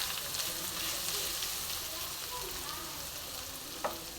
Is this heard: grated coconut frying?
yes